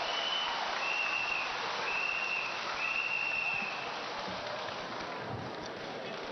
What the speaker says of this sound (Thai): พี่น้องครับปรบมือให้กับเสรีชนนิพิธอิสระสมบัติ